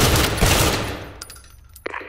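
A rifle fires at a target in the Firewall Zero Hour tutorial: a loud burst of rapid shots up front, fading into quieter clicks and a sharp metallic clack near the end.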